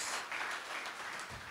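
A church congregation applauds after a pastor's call for another round of clapping during a Filipino sermon, a steady dense wash of hands that holds evenly through the short stretch and fades slightly near the end.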